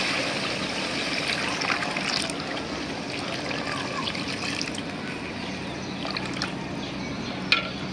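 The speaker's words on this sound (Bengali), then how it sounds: "এখন আমি ঝোল দিয়ে দিব, পরিমাণ মতো ঝোল দিয়ে দিচ্ছি" Broth pours steadily into a pan of boal fish curry being cooked down with spices in a village kitchen, a continuous close watery trickle and splash with no pauses.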